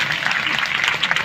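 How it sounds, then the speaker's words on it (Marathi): Loud applause from a live audience at a stage programme, a dense continuous clatter of clapping hands filling the whole short moment. "एकदा जोरदार टाळ्या होत्या डबल"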